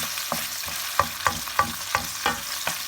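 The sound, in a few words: onions sauteing in a pan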